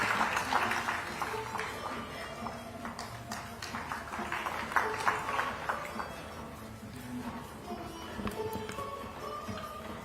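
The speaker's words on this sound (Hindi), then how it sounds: "माननीय स्वास्थ्य मंत्री श्री श्याम बिहारी जायसवाल जी का पुनः एक बार जोरदार तालियों के साथ स्वागत" Applause at the inauguration of a hospital and medical college in Raipur, Chhattisgarh: a crowd claps in an uneven patter that swells and fades, with faint voices in the background.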